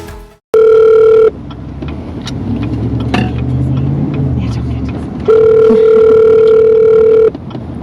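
A phone's ringback tone sounds two long steady beeps, loud and clean, separated by a few seconds of car-interior rumble and faint voices.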